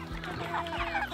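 Chickens raised as meat birds on a homestead cluck in short, close bursts with a steady farmyard background and no talking.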